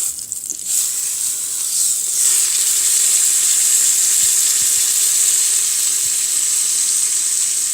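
A pot roast browning in an Instant Pot, a loud, steady close sizzle that swells after the first couple of seconds and holds continuously with faint occasional pops.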